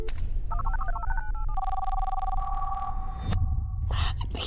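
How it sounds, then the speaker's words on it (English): A telephone rings in a tense emergency scene, a series of electronic trills and tones that repeat and shift pitch over several seconds, fairly loud and without speech over them. "I hear the phone ring."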